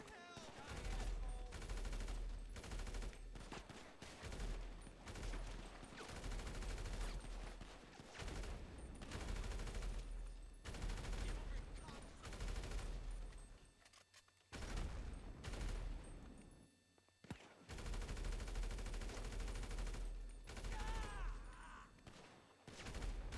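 Dense rapid gunfire in GTA 5 on Xbox 360, with many characters shooting at once: continuous bursts and volleys of loud shots, broken by short gaps, going on throughout.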